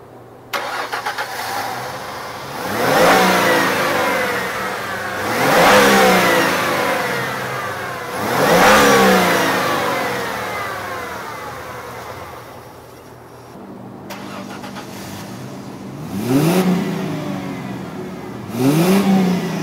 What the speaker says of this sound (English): this fuel-injected V6 runs great.